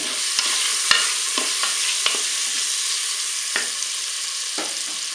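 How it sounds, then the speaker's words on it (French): Garlic semolina and curry being stirred in a hot cooking pan, a dense steady sizzle with scattered scraping clicks of the utensil against the pan. "On mélange tout ça."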